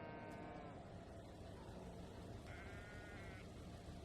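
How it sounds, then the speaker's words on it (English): Cattle lowing in the Trainz 2022 railway simulator on the C&O Hinton route, a pair of faint, drawn-out harmonic moos heard at a distance over low ambient noise, with a sharp knock at the very end. "Oh, I can hear the cows."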